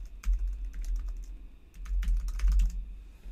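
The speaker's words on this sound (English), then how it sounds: "I've got to type in the full email address" Quick, irregular clicks of keys on a computer keyboard as an email address is typed, close and clear, with a brief pause midway.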